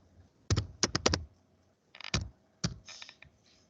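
A name being typed on a computer keyboard, heard as several short bursts of close, crisp key clicks with brief pauses between them and no voices.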